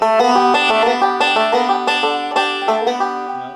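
A banjo picked in a steady, rapid rolling pattern rocking between first and middle finger, bright plucked notes repeating evenly and close up, with no voices.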